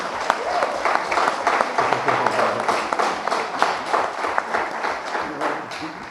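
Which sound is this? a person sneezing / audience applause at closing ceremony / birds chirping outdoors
audience applause at closing ceremony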